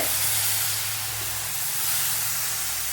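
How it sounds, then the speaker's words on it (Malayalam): Water, or the runny liquid left from ground spice paste, poured into a hot pan of chicken curry for Kerala chicken pollichathu, setting off a loud, steady, close hiss of steam that holds unbroken throughout. "ഇതിലേക്ക് ഇനി ഒരു ശകലം വെള്ളം ഒഴിച്ചു കൊടുക്കാം"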